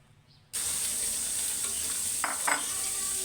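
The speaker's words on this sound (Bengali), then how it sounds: "এখন দিয়ে দিব পরিমাণ মতো পানি।" After a quiet moment, water hits a hot pan of frying potatoes and tomatoes and sets off a sudden loud, steady hiss, with a couple of brief utensil scrapes.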